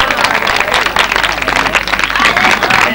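Audience at a Punjabi mushaira poetry gathering clapping, loud and dense with a busy, roomy crowd texture and continuous clapping through the whole stretch.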